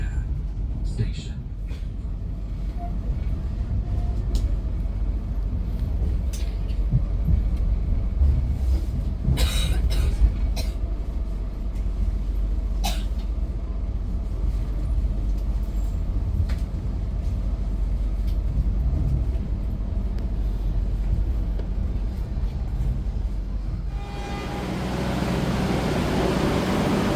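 An executive-class Dharmawangsa passenger train runs from Surabaya toward Jakarta as it nears Jatinegara Station. A steady interior rumble carries light rail clicks and a cough, and an onboard voice announcement is heard.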